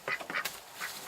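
A sick or injured duck kept in a barn gives several short, nasal quacks in quick bursts, close and fairly soft, with no talking.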